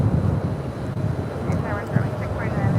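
An airplane taking off at LAX produces a steady low roar, buffeted by wind noise, heard from a distance across the airfield.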